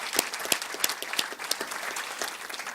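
Audience applause at a 2017 Wall of Distinction ceremony, a steady round of many hands clapping with some sharper individual claps standing out, moderately loud and continuous.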